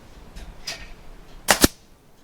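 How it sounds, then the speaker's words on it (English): An FX Wildcat MK2 air rifle fires outdoors at dandelion heads, a sharp close crack followed by a quick second snap, with quiet surroundings before and after. "have a go at shooting the heads off a couple of dandelions"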